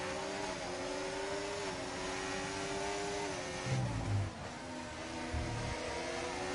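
Formula 1 race cars in a racing video game, a Mercedes among them, with a steady, loud high engine whine that shifts pitch as the cars accelerate, with a couple of brief low thumps, no talk.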